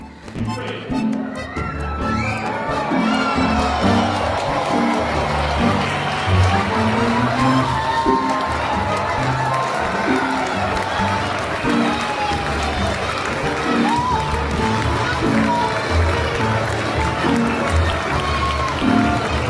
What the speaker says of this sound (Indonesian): Kalau tepuk tangan beneran.